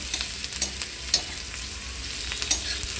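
Onion frying in a pan for a cheese egg chutney, a steady soft sizzle with light scraping stir clicks, close and continuous with no talking.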